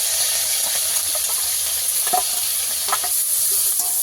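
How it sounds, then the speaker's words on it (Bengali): Salt-and-turmeric-coated prawns fry in hot oil in a wok, giving a loud, steady, close sizzle with a few faint stirring taps. "তেল হয়ে গেছে চিংড়ি মাছগুলো দিয়ে দেবো"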